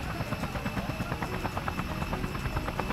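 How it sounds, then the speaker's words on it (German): Helicopter in the video game Just Cause, a steady loud rotor drone with rapid thudding blade chop throughout, no voices. "Aber Heli fällt mir irgendwie leichter in dem Game als irgendwie Flugzeug."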